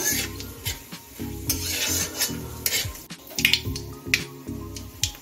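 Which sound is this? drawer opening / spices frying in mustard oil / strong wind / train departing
spices frying in mustard oil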